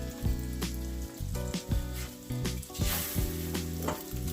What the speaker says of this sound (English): And go ahead and flip our eggs.